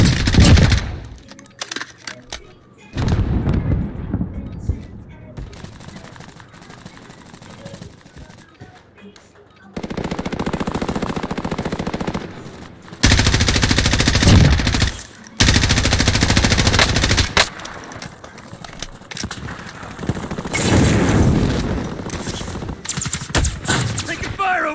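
Machine gun fire in the shooter game Warzone, long loud bursts of rapid automatic shots broken by quieter gaps, with voices calling out between volleys.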